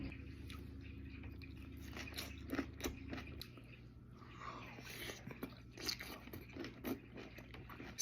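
Someone chews and eats kimchi, the spicy fermented Korean cabbage, with close, wet crunching and squishy bites repeating unevenly throughout, no talking over it.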